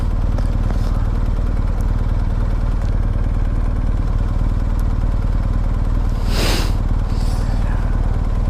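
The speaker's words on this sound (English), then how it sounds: "it just feels so good to sit down and ride on a cool motorcycle." A steady motorcycle engine drones throughout, low and constant, with a brief hiss of passing air near the end.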